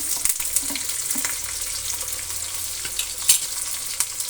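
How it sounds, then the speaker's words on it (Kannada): Steady crackling sizzle of mustard seeds, curry leaves and onions frying in hot oil, with occasional pops and light stirring scrapes throughout. "ಸಾಸಿವೆ ಕರಿಬೇವಿನ ಸೊಪ್ಪು ಈರುಳ್ಳಿ ಇಷ್ಟೇ ಒಗ್ಗರಣೆ ಕೊಡೋದು ನಾನು"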